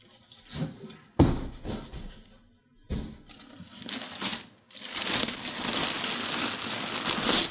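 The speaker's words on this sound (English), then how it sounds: "Plastic wrap, keeping it safe" Plastic wrap crinkles in bursts while a Corsair Vengeance C70 gaming case is pulled from its box, a few sharp crackles first, then a long continuous rustle that builds loud near the end.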